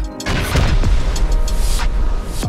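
A C4 or rocket explosion during a raid in the video game Rust, a loud deep boom followed by rumbling debris and crackling that lasts a couple of seconds, heard alone.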